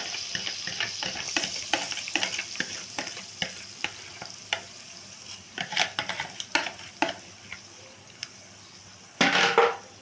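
Pancake batter hits a hot buttered pan, with a steady soft sizzle under a series of sharp scraping and tapping strokes, and a louder burst of frying noise near the end.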